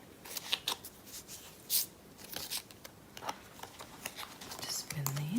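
Tarot cards being shuffled in a quiet room, heard as soft, close papery riffles and taps at an uneven rhythm, with a brief low hum near the end.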